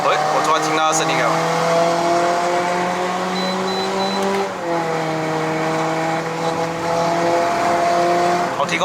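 A 2015 Toyota Corolla Altis 2.0V climbs a mountain road with its engine revving up and down in a steady, sustained tone and a clear gear change midway. The engine sounds close and fairly loud under the cabin.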